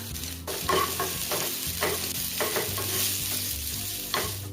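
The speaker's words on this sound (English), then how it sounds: "In goes my onion." Onion dropped into hot oil with cumin, green chili and ginger in a pan, giving a sustained sizzle with stirring scrapes, unaccompanied by speech, while soft music plays underneath.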